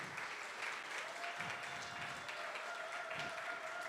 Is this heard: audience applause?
yes